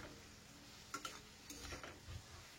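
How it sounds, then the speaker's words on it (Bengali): Mushrooms fry in oil with salt and turmeric, giving a faint, steady sizzle broken by a few light scrapes and clinks of a spoon stirring the pan. "আর অনবরত নেড়ে এটাকে ভাজতে থাকবো।"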